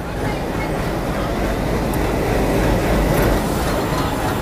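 The Bagh Express train pulls into a station, a loud continuous rumble of wheels and carriages rolling close by with no break.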